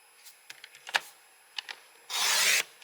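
A paper trimmer slices through cardstock in one loud, steady rasping cut of about half a second, preceded by scattered soft taps and rustles of paper being handled up close.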